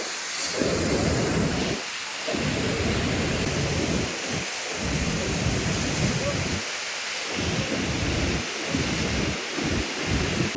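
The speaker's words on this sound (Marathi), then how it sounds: "माझ्या मागं धबधबा आहे" A waterfall roars in a constant, dense rush of falling water close by, with wind buffeting the microphone now and then.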